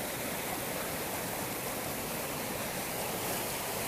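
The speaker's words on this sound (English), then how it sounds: "Cool little waterfall right there." Steady rushing water of a small mountain waterfall on a Colorado trail, a constant broadband wash with no breaks, fairly close and continuous throughout.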